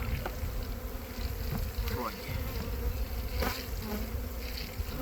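Dense, continuous buzzing of many honeybees being shaken out into a hive box, steady and loud throughout, with faint background noise.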